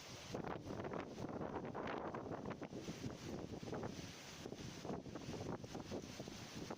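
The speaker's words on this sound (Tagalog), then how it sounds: "ang lakas ng hangin" Strong wind buffets the microphone in a continuous roar with gusty surges, no voices over it.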